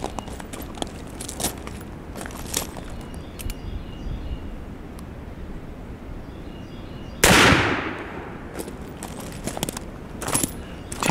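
A single sharp Uberti 1862 Police Model revolver shot cracks loudly at an outdoor range and decays over about a second, preceded and followed by faint clicks and handling noises.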